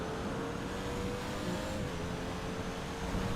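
Engine of a Pfister Comet S2 Cabrio convertible sports car in GTA Online gives a steady, moderately loud motor drone throughout, with no talk over it.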